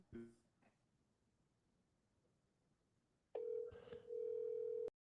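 A telephone call's steady dial tone sounds loud and close for a second and a half and then cuts off abruptly. Faint voices and a few brief knocks come before it.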